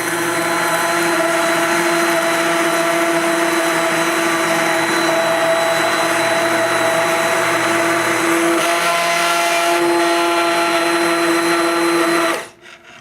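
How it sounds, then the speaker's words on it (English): A kitchen blender runs steadily at high speed, pureeing mushroom and shallot soup with a little stock, a loud continuous motor whine and churn that holds for about twelve seconds before abruptly cutting off. "put it in your blender and run it with a little bit of the stock"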